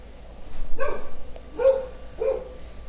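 Dogs attacking in Dark Souls 3, heard as three short snarling bark-like growls spaced about a second apart, moderately loud over a faint game background.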